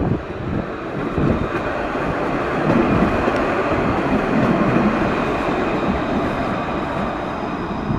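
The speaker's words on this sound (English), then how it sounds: "As another train pulls in." A Luas light-rail tram rolls into Dundrum station in Dublin, a steady loud rumble of wheels and motors with a faint high whine, sustained and close throughout with no voices.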